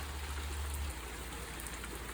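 Steady rain falls across a garden under thick clouds on a chilly day, a dense, even patter of drops hissing continuously and close by with no voices.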